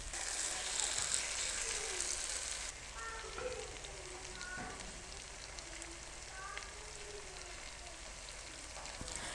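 Cauliflower koftas in gravy sizzle and bubble steadily in a kadai, a continuous close, soft frying hiss with light gravy pops as the pan is swirled.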